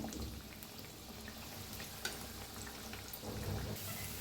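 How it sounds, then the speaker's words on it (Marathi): Cabbage vadi pieces deep-frying in oil until crisp, a faint, even bubbling sizzle with a slight swell toward the end. "छान कुसकुशीत असं तळून घेऊया"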